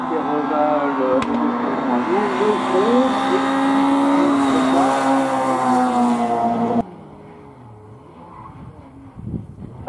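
At a hill climb race, a race car's engine roars loudly and steadily with shifting, rising and falling pitch for several seconds, then cuts off abruptly, leaving faint background noise.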